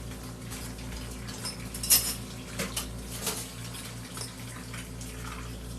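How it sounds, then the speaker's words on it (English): A spoon scrapes and clinks against a bowl as boiled broccoli is stirred into a casserole mixture, with soft irregular knocks and a faint steady hum behind. "Put it in my mixture. And I'm stirring it up good."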